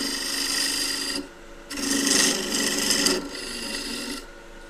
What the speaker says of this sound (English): just a straight scraper, using it like a parting tool. So now cutting it with a slight angle to start with.